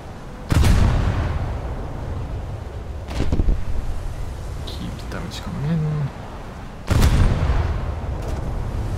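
Naval gunfire in a ship battle game: three heavy, booming salvos spaced several seconds apart with wind-like rumble between them, while someone talks in the gaps.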